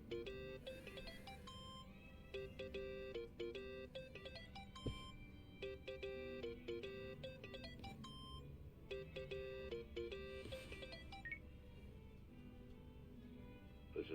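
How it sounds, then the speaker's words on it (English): Electronic phone ringtone in the video game Yakuza: Like A Dragon, a repeating melodic beeping pattern in bursts over game background sound, steady and fairly loud throughout. "Think that's your phone, man."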